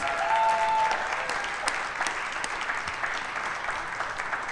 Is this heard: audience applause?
yes